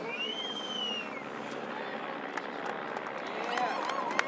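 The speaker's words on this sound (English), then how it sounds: "the crowd is absolutely going nuts" Spectators at the Red Bull Rampage mountain bike contest cheering and whistling, a continuous distant roar with rising whistles and scattered claps, moderately loud, steady, and swelling slightly toward the end.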